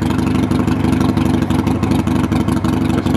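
A 2015 Harley-Davidson Iron 883 V-twin idles as it warms up, a loud, close, deep, lumpy rumble with steady uneven pulses and a slight clatter throughout.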